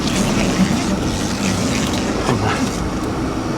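A Honda Del Sol with a new fuel pump, heard from inside while driving: a steady low engine drone with road and wind rush, loud and continuous, with no talking.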